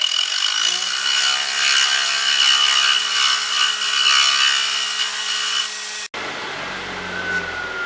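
A loud, steady whine of a spinning wood lathe with a harsh cutting rasp as the end of a pencil holder blank is squared, ending abruptly before a quieter, lower hum continues.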